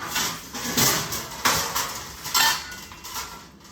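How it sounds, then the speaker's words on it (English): A metal pan clatters and scrapes across a kitchen counter, with several distinct knocks and slides over a few seconds and no talking. "let me just move this pan over here"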